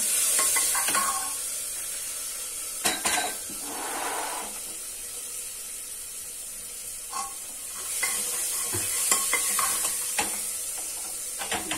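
Three or four small tomatoes fry in a pan with a low, steady sizzle, broken by occasional scrapes and knocks as they are stirred, close and fairly quiet with no talking.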